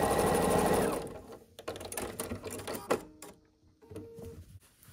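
A sewing machine stitching the final seams of a quilt block runs in a steady whirring burst, then continues in shorter, uneven runs of mechanical clatter, close and fairly quiet.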